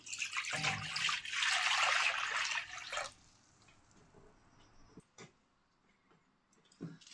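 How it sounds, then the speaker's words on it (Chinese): Water poured from a tap into a cooking pot for boiling eggs, giving a loud, steady rush for about three seconds that then cuts off, followed by a few faint drips and clinks. "接下來鍋中加水"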